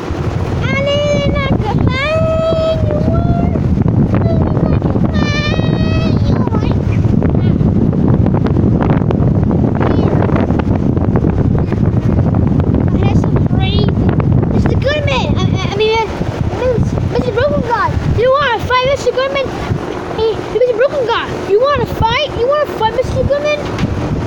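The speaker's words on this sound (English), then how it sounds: "it's pretty windy" Gusty wind buffets the microphone with a steady low rumble, while people talk over it throughout.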